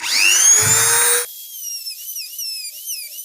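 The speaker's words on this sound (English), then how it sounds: "We will cut it using a cutting grinder." A cutting grinder spins up to a loud, high whine as it cuts open the sealed cup of a float switch, then coasts down into a fading, wavering whistle once the cut stops.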